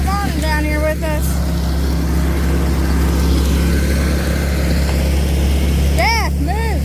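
A Husqvarna 372 chainsaw idles as a loud, steady low engine drone on a steep wooded hill, with high whistling or calling tones breaking in near the start and again near the end.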